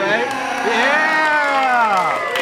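A studio audience crowd cheers and whoops with rising and falling voices, sustained and loud across the moment, with scattered clapping beneath.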